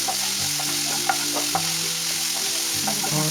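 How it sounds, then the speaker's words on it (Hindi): Chopped vegetables sizzling and frying in a pan for an eggless besan bread omelette, a steady close hiss with scattered light stirring clicks and scrapes, no talking. "इस तरह से 2 से 3 मिनट वेजिस को फ्राई कर लीजिए आप।"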